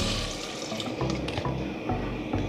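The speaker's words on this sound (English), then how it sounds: "And I'm gonna add 4 cups of water to it" Water splashes and gurgles as four cups are poured into a pot of carrots and pumpkin, a continuous close pour with some bubbling, no voices.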